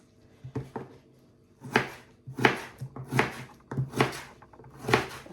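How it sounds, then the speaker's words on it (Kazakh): A knife chops potatoes into cubes on a board, delivering a series of sharp, close thuds in irregular bursts, quiet at first and then quicker and louder. "Енді осы картошкаларымызды турап, кубиктап, фаршымыздың бетіне салатын боламыз."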